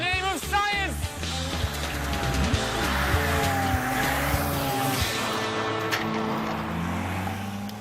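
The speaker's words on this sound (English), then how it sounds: "locks the steering wheel in place and opens the throttle" A driverless car with its steering wheel locked in place runs at full throttle, its engine roaring up in pitch at the start, then holding a loud, steady, close roar with tire squeal throughout.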